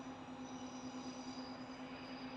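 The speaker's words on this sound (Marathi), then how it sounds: "आता सध्याचं हे आली आहे ट्रेन" A train arrives, rumbling steadily nearby with a sustained tonal hum and faint squealing, continuous and fairly quiet.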